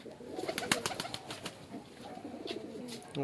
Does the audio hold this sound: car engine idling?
no